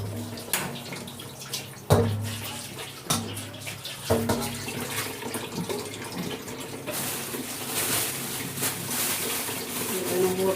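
Tap water pours into a cooking pot while papaitan is being made, a splashing, hissing flow that starts after a few knocks and thuds, with voices talking nearby.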